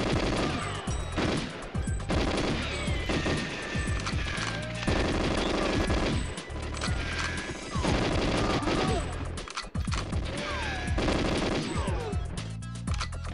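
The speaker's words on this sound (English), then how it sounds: "Someone's shooting and I don't know from where." Sustained gunfire in the N64 game GoldenEye 007 on the Jungle level, rapid automatic bursts and single shots crackling almost nonstop at steady loudness with only brief pauses.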